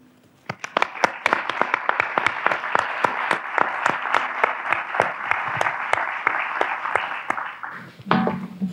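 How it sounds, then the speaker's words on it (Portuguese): An audience bursts into sustained applause, dense and steady for about seven seconds before tapering off abruptly, with a few stray claps and a brief voice at the end. "uma salva de palmas, por favor"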